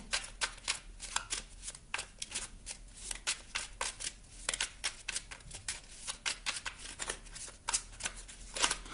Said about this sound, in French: On va demander une carte ici au petit oracle de Merlin.